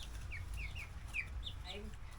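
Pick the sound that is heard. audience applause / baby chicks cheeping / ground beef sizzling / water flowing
baby chicks cheeping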